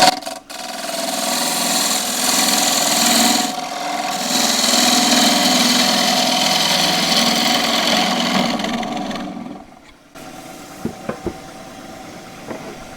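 A wood lathe spins a fiddleback eucalypt display bowl at about 1350 rpm, giving a steady loud whirring hum with scraping cut noise for most of the stretch, then dropping to quieter background with a few brief knocks near the end.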